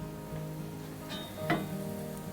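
Golden garlic and freshly added tomatoes fry in a pan, a soft steady sizzle with a couple of brief louder hisses as food hits the oil, heard close with no talk.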